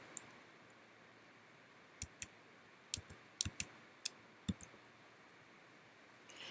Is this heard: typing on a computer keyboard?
yes